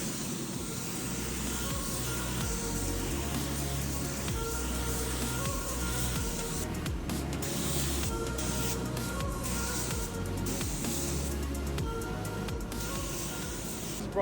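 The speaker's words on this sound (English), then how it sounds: "one dust coat. Don't pump it on wet, just dust it on." A spray can laying down a thin dust coat of paint during a custom interior build for a VZ ute, heard as a steady continuous hiss close by, with brief sputtering breaks in the middle.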